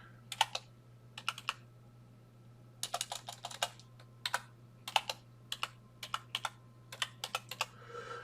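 A password is typed on a computer keyboard in short, close bursts of crisp key clicks, separated by brief pauses, over a faint steady hum.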